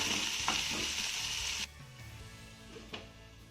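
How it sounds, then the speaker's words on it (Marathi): Green peas sizzle and hiss in a pan, then a lid goes on and the hiss drops abruptly to a quieter, muffled simmer with a soft tap near the end. No voices. "आता यावर आपण झाकण ठेवूया आणि याला दोन मिनटं चांगलं वाफवून घेऊया"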